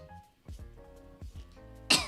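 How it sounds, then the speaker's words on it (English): A single person clears their throat with a brief raspy burst near the end, after quieter breathy vocal sounds, close to the microphone in an indoor room with a bathtub running. "Had to clear my throat, pardon me."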